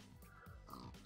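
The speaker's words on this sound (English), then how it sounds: "Come here, piggy." A pig in the Minecraft modpack Agrarian Skies gives a few short, nasal oinks and grunts in quick succession, clear and up front, with no talking.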